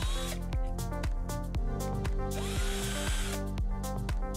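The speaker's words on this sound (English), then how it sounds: "At this point, we can pre-drill for our face frame wing adapter plate." A power drill whirs in short repeated bursts, roughly every half second, stopping and starting as it pre-drills a series of holes for hinge mounting plates in a cabinet face frame close by.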